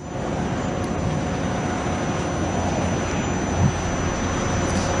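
A military jet roars overhead at the Dubai Air Show, a steady loud broadband engine rumble holding across the whole stretch, heard from the open air.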